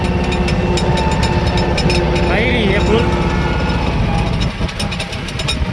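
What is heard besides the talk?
tractor engine running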